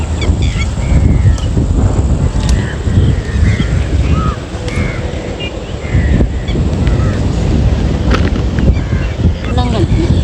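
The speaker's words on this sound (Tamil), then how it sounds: "நல்லா காற்றடிக்குது" Strong wind gusts across an open chilli field at harvest, a steady broadband rush with buffeting on the microphone, while someone talks over it and a few birds call in the background.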